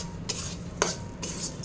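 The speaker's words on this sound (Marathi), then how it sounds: "सतत असं हलवत राहावं लागते याला" A spoon stirs water chestnut flour as it dry-roasts in a pan for ladoos, making a few brisk scraping sweeps over a low steady background hiss, close up and without speech.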